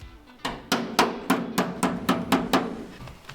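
A hammer taps a metal fender nine times in an even, fairly quick rhythm, each strike sharp, close and ringing briefly.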